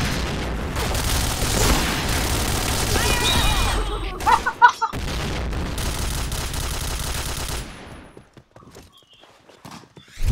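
Bursts of rapid gunfire and a grenade blast ring out during a shooter match, with loud, dense volleys for several seconds, a short sharp flurry of hits, then more firing that cuts to near silence.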